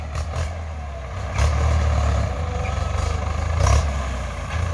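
A Ford 6600 tractor pulling a six-disc plough through a rice field, its diesel engine a steady low rumble that swells louder in two surges, heard alone without talk.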